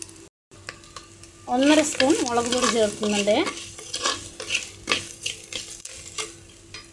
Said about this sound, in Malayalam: അടി കരിയാൻ ചാൻസ് ഉണ്ട്. അത് കാരണം ഞാനൊന്ന് ഇളക്കുന്നുണ്ട്